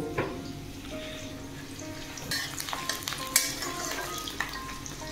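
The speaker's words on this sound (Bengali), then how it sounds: "পেঁয়াজটা লাল করে ভাজতে হবে।" Onions fry in a pan with a soft, steady sizzle and occasional stirring scrapes and clinks, faint and close, with no one speaking.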